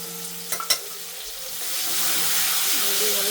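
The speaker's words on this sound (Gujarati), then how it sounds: "ડુંગળી નાખી દઈશું," Onions hit hot oil with mustard seeds, cumin and turmeric, a few sharp clinks and pops giving way to a building, steady sizzle that grows louder toward the end.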